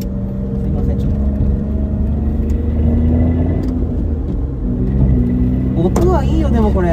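A Suzuki first-generation Alto Works (CA72V) engine drones steadily up close, its pitch gradually climbing as it revs, with a faint voice under the noise.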